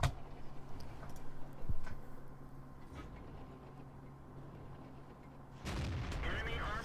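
Tiger II tank cannons boom in World of Tanks gameplay, with a few heavy shots spaced seconds apart over a steady engine rumble and game noise.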